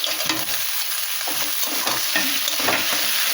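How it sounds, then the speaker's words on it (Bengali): Eggplant pieces sizzle in a pan over potatoes and kohlrabi that are already frying, with a steady close hiss and a few stirring scrapes, and no talking. "আলু আর ওলকপিগুলো একটু ভেজে নিয়েছি, এবারে বেগুনগুলো দিয়ে দিলাম।"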